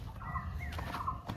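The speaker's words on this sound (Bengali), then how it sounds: "মুরগির ফার্ম, পোলট্রি ফার্ম, ব্রয়লার মুরগির ফার্ম" Broiler chickens on a poultry farm give soft, steady clucking and murmuring calls at moderate distance, with a continuous low barn hum underneath and a brief louder sound at the very end.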